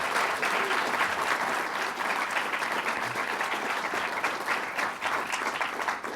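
A large crowd claps steadily and continuously at a climate change event, a dense wash of applause that holds at full volume throughout without letting up.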